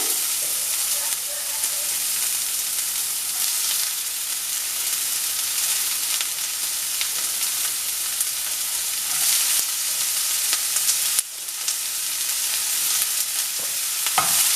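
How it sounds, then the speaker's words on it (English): Chopped onion with garlic paste fries in a pan for dum aloo, giving a loud, continuous close sizzle and hiss with occasional stirring scrapes and no talking. "you have to fry the onion until it becomes light brown in color"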